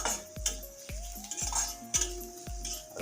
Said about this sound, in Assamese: বস্তুখিনি হিলাই দিওঁ